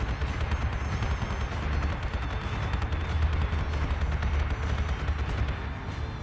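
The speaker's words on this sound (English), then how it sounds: "He's firing a barrage." An enemy ship in Battlestar Galactica Deadlock firing a barrage, a dense, continuous rattle of rapid shots and low rumbling blasts that holds steady and loud for several seconds without letup.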